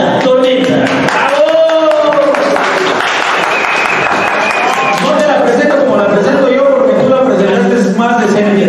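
Live audience giving loud, sustained applause as Yanza Tormenta is introduced on stage, a dense clapping wash running throughout with voices and music-like tones mixed in.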